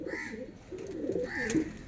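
Pigeon cooing on a rooftop, a soft throaty coo repeating in a few low rolling phrases, close and moderately loud, with no voices present.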